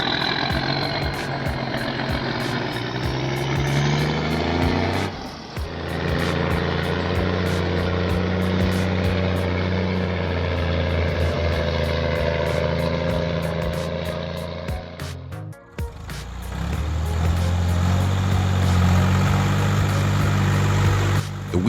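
Logging truck stuck in mud, its engine held at a loud sustained roar as the driver floors the throttle, dipping briefly twice before surging again.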